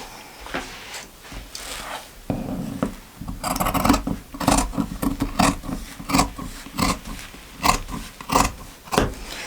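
Quilt fabric being trimmed for a no-sew baby quilt, with repeated rhythmic scissor cuts and rustling cloth, close up and with no talking.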